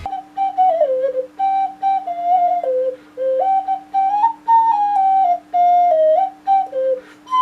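A ceramic or porcelain zozulia whistle flute plays a bright, pure melody of short phrases with sliding pitches over a steady drone-like tone, loud and close with no voices.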